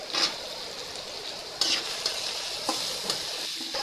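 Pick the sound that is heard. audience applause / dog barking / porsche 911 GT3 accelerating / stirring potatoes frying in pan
stirring potatoes frying in pan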